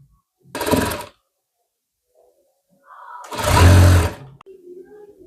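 Electric sewing machine stitching the corner of a blouse during hemming: two short motor-driven bursts of rapid needle clatter, the second longer, separated by near silence and a few faint handling clicks.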